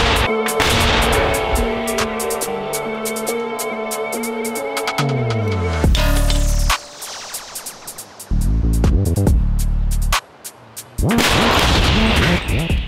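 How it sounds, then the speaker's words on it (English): An Italian M109L self-propelled howitzer fires near the front line, sending out loud, booming blasts with rumbling echoes and mechanical clatter between the shots. "Immediately after the shot has been fired, the soldiers rush to mask the howitzer."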